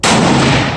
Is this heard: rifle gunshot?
yes